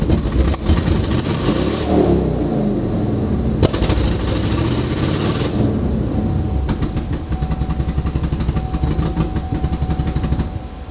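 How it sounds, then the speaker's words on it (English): A loud 2006 GMC truck engine roars and revs steadily, with a rising whine and a sharp clunk partway through, continuing without any talking. "Why is it revving up?"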